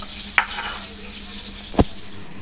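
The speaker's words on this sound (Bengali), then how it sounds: "এটা আমার জন্য ভাজা।" Eggplant slices frying in a pan at home give a steady soft sizzle, broken by two sharp utensil clicks near the start and end.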